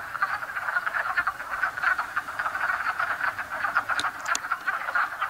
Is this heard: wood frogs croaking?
yes